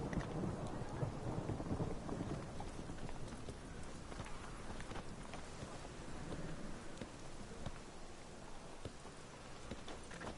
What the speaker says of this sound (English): Mad running around in this rain.